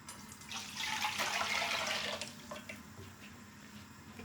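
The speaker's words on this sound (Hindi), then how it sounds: "जो यखनी निकाली थी वो दोबारा डालें इसमें" Homemade chicken stock pours steadily back into a pot of chicken and vegetable soup, a continuous splashing liquid stream swelling loud for about two seconds before trailing off into softer trickles.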